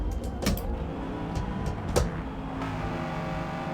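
In a racing game, a car's engine revs through a corner at the Spa circuit, a steady drone broken by a few sharp bursts, with no speech.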